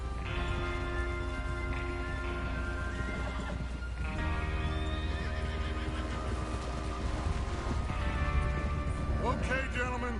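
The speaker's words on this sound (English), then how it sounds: "Get your horses ready." Horses whinny and hooves clip-clop in a PS4 video game, mixed into a steady bed of musical score and ambient game sound that runs throughout.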